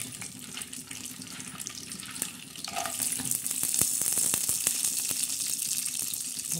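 Peanuts fry in a little oil in a pan for upma, a soft, steady sizzle and hiss rising slightly midway, with a few faint clicks of stirring, fairly quiet and without talk.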